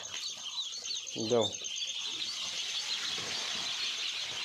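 Ducklings peep faintly with high, thin chirps throughout, with a brief louder squawk midway and a short word spoken nearby.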